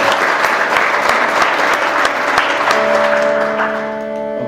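An audience at a Celtic Christmas concert in Long Branch, Ontario claps loudly and densely, then the applause thins out and fades near the end.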